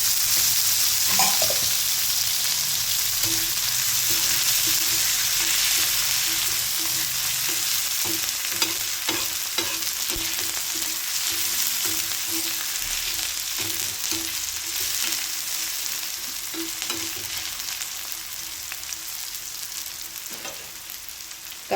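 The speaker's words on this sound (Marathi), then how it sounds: "इथे आता तवा गरम करून कांदा टाकला आहे." Onion sizzles in oil on a hot tawa, a steady frying hiss that runs throughout, broken by repeated scraping clicks as the pieces are stirred, with no one speaking.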